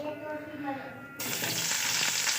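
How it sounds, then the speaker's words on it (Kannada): Chopped onion hits hot oil in a pan for a home chicken gravy, and a loud, steady sizzle suddenly takes over from a quieter background midway and continues close up. "ಸ್ವಲ್ಪ ಕೆಂಪು ಹುರ್ಕೋಬೇಕು. ಇದನ್ನು ಹುರ್ಕೊಂಡು ಸ್ವಲ್ಪ ಕೆಂಪಗಾಗೋಷ್ಟು ಹುರ್ಕೊಂಡು,"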